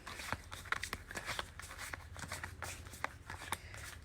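A deck of tarot cards is shuffled close up in an ASMR reading, soft repeated riffles and taps in an irregular rhythm, quiet and intimate.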